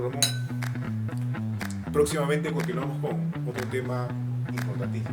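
Glasses clink together in a toast among several people, short bright clinks scattered over a few seconds beneath continuous talking and a steady musical drone.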